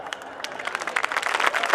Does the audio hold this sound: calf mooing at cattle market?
no